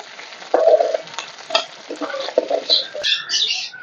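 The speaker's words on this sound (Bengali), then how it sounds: "দিয়ে দিচ্ছি সর্ষের তেল তেল গরম হয়ে গেছে মাছগুলো ভেজে নেব" Fish fries in hot mustard oil with bursts of sputtering sizzle and spatula scraping, uneven and close, spitting and popping in irregular patches.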